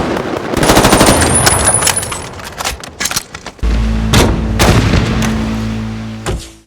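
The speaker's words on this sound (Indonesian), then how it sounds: "Alhasil, aksi saling tembak tak terhindarkan." A gunfight between robbers and police in the film Den of Thieves: sustained, loud automatic gunfire bursts with sharp individual shots and heavy booms, with a brief lull midway before the firing resumes.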